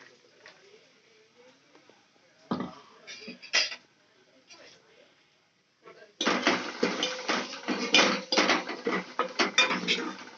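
Metal pan and utensil clatter as masala spice is added and stirred into a cooking pan, with scraping and knocking that grows dense and continuous after a quieter stretch of sparse clinks.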